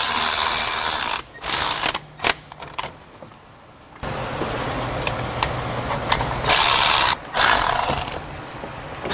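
Ratchet wrench clicking on AC compressor bolts of a Hyundai Sonata in a repair shop, bursts of rapid ratcheting separated by short pauses, close and fairly loud, with no talking.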